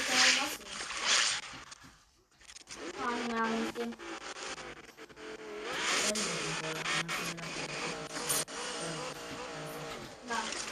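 Racing car engine in a video game revs and shifts through varying pitches, with tyre noise, under near-continuous chatter from players talking over it.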